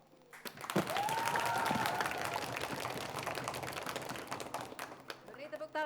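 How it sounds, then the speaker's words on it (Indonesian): A studio audience at a televised quiz contest breaks into steady applause that swells quickly, holds for several seconds, then thins to scattered claps. "Beri tepuk tangan yang meriah,"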